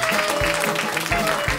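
Audience applause at a live comedy and music show, a steady wash of clapping from a crowd, fairly loud and continuous throughout the short moment with no one speaking over it.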